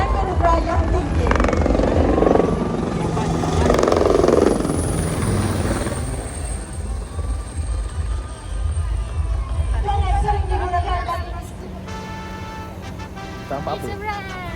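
A compact maritime patrol helicopter flies nearby at a naval event, its rotor drone loud and continuous before fading somewhat, with voices speaking over it.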